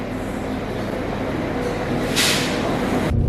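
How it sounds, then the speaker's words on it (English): Steady low rumble and rattling inside a moving Northern passenger train to Leeds, with a brief hissing burst midway and a sudden shift in noise near the end. "Welcome aboard this northern train to"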